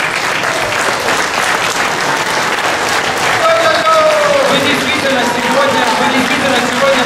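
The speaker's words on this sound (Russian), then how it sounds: "Давайте поаплодируем." Sustained audience applause fills a party congress hall, steady and loud throughout, with a few voices calling out faintly underneath.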